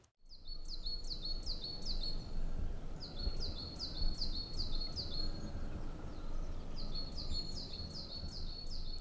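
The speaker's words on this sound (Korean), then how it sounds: "다양한 새들의 울음소리가 골짜기 습지에서부터 들려옵니다." Several birds call and sing in a valley wetland, repeated bright chirping phrases in clusters over a steady low ambient background, fairly near and clear with no talking.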